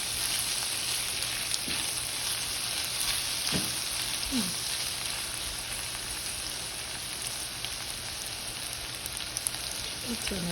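Sisig, a Filipino chopped pork dish, sizzles and fries steadily in a hot pan, a dense continuous crackle with a few soft utensil scrapes and clicks, close and without speech.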